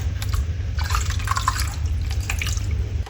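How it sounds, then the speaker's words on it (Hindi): Water pouring into a gram flour batter for kadhi, a steady close splashing trickle running throughout with faint dripping and no talking. "पहले मैं इसमें पानी डालूंगी"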